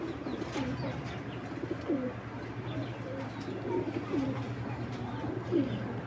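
Bezi breed female pigeons cooing softly in repeated low murmurs, a steady soft hum underneath, with no voices.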